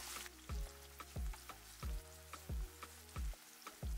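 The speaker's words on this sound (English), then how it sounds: "In a pan, you want to heat up some palm oil, add in your chopped onions, and let it fry until it's a bit fragrant." Chopped onions frying in hot palm oil in a pan give a steady sizzle, with several loud, regular low thumps roughly every two-thirds of a second and no talking.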